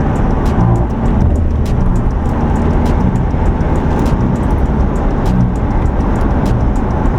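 Heard from inside a Mitsubishi Pajero under acceleration, a loud, steady engine and road drone fills the cabin, with a constant low rumble and some rattling ticks, and no break throughout.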